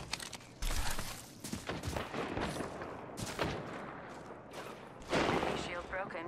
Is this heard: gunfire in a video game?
yes